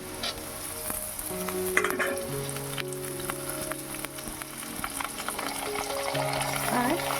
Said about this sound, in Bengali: আলুগুলো প্রায় ভাজা হয়ে গেছে এবার আমি কেটে রাখা টমেটো আর কাঁচা লঙ্কা দিয়ে দেবো